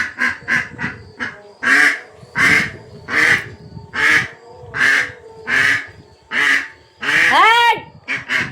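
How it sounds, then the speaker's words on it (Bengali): Loud, close ducks quacking in a regular series of about a dozen honking calls, evenly spaced with short pauses between them. "ওই যে হাঁস ডাকলি তাও ভয়"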